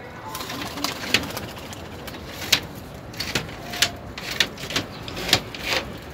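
Pigeons kept in a loft coo softly amid scattered light taps and wing or foot movements, a faint murmuring backdrop with small sharp clicks at irregular intervals.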